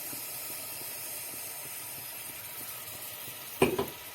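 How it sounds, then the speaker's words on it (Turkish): Steady soft sizzling hiss of grated garlic frying in hot butter in a pot, with a brief louder clatter near the end. "Sarımsağı bir güzel kavuruyorum."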